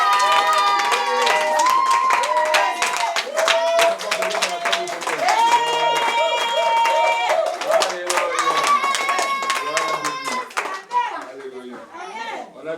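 A church congregation claps and cheers in praise, a dense run of hand claps and voices, with children's voices mixed in, loud and close before it tapers off.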